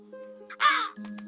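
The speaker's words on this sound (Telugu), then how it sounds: "కాకులు అల్లరి చేస్తూ పిచ్చుకను పిలిచాయి" A crow gives a single harsh, nearby caw that stands out clearly over a quiet background of low steady tones.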